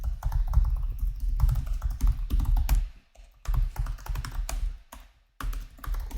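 Keys clatter in quick bursts of typing on a computer keyboard while contact details are entered on a no-code website form, with short pauses between runs, close and moderately loud with no speech.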